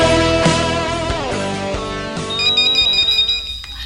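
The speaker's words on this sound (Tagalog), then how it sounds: "Oh, ang telepono." A telephone rings with a warbling electronic ringtone, repeated pulsing tones close and clear, with no talk over it.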